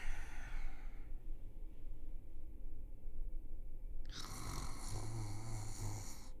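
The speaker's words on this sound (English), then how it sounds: "The woman snores as the man lays on his side, fast asleep." A woman snores in bed in a quiet room, with slow, rasping breaths and a louder snort-like snore near the end. No voices are heard.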